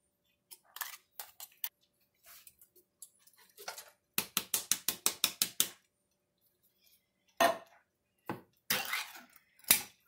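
Canned tomatoes and green beans dropped into a casserole dish, heard as bursts of clinking and tapping of utensils against cookware, including a quick run of rhythmic taps, separated by quiet gaps.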